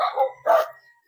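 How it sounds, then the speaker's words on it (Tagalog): Several dogs barking close by along a rural path to a farm field in the Philippines, two or three short loud bursts separated by brief pauses. "Dito na ang mga nag-iingayang aso, nakakatakot."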